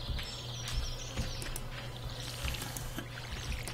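Splashing and pouring water from a watering can onto crops in the farming game Stardew Valley, a steady soft trickle running the whole time with faint chirping bird calls over it.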